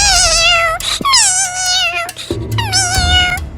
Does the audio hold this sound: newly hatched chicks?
no